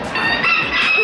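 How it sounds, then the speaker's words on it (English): A farm chicken with feathered feet lets out a loud, close squawking cluck, a single strained call lasting about a second, with no voices over it. "Look at this chicken. He's got feathers on his feet."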